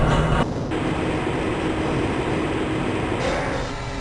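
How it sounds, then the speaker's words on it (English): A tram in the Black Mesa transit system of the game Half-Life: Blue Shift rolls steadily along its rail, a continuous rumbling clatter that stays close and even throughout, with no voices. "This train is inbound from the Area 8 topside dormitories to the Central Transit Hub in Area 9."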